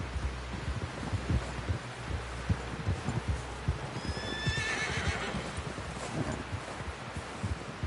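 A horse in the video game Red Dead Redemption 2 whinnies once, loud and clear, over a steady thudding of hooves and a low rumble.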